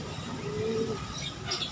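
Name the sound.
birds chirping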